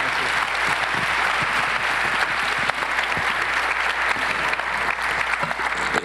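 An audience applauds at a general assembly of a business support network, with loud, sustained, dense clapping throughout.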